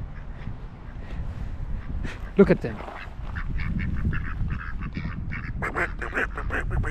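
Ducks quacking among chickens and roosters at an animal cafe on Jeju Island, Korea: a stream of loud nearby quacks and honks while a person talks briefly.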